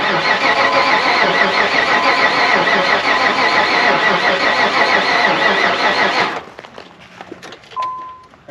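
A Pontiac Trans Am, sitting unused for 17 years, fires up and runs loud and rough with a steady roar for about six seconds, then cuts off abruptly, leaving faint clicks and a brief tone.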